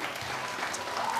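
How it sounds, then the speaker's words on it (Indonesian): Audience applause at a Bugis-language religious lecture, a brief, steady wash of clapping from a seated crowd at moderate volume, with no speech over it. "Tepuk tangan untuk beliau."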